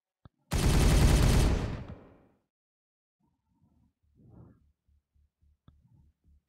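Weapons firing in the video game Warhammer 40K Regicide: a loud, dense burst of rapid gunfire lasting over a second that fades out, followed by quieter scattered game sounds.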